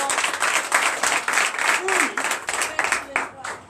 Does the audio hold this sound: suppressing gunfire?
no